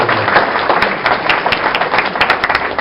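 Dense clapping from a crowd, a steady patter of many hands throughout, loud and close with no voices standing out.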